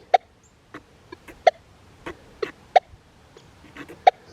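Short electronic beeps from a Manticore metal detector on a dime sound at uneven intervals, some sharp and clear, others fainter, over a quiet background.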